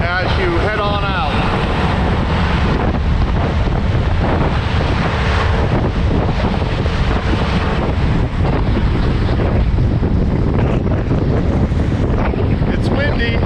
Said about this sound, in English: It's windy, big waves today.